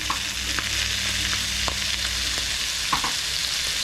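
Peeled, tail-off shrimp sizzling in a pan of Samoan fried rice, a loud steady hiss of hot oil with occasional small pops and scraping stirs, no talk.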